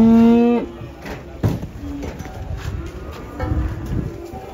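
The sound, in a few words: giant cows mooing at Pon market in Ambarawa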